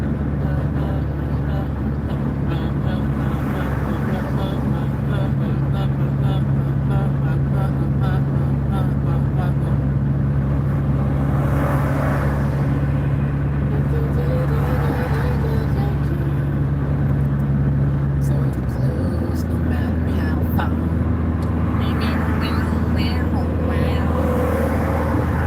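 A van nicknamed Van Diesel climbs a hill, its engine droning steadily at low pitch and shifting tone partway through, heard from inside under ongoing talk.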